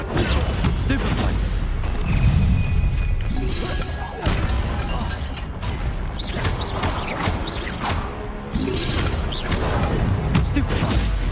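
Spell-casting effects from combat in Hogwarts Legacy, with a Stupefy spell fired among repeated whooshing bursts and smashing impacts over dense, loud battle noise, while a voice talks throughout.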